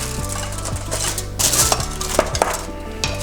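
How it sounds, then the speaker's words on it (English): A metal spatula scrapes and clinks against the sides of a pan of mango bars, making several distinct metallic taps and scrapes alone, with no voices. "So first is we get a spatula and make sure to release the sides"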